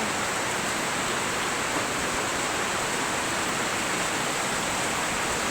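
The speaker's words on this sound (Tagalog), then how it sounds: "lakas ng ulan oh Narinig nyo yan." Heavy rain falls in a thick, constant wash of hissing noise, close and loud, holding steady throughout with no talking.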